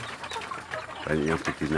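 Free-range village chicks and young hens peep and cluck close by, soft scattered calls followed by a few louder, tonal clucking bursts, with someone speaking over them.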